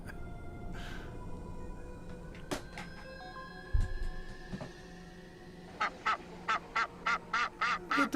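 A person imitating a duck's quack during a live Q&A, a string of short nasal honks near the end, loud and evenly spaced, after some quieter scattered sounds.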